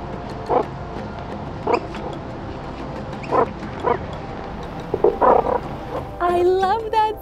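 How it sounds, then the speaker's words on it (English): Meerkats make little chattering calls: several short bursts spaced a second or so apart, moderately close. A voice follows at the end. "I love that sound. The little chatting is the cutest."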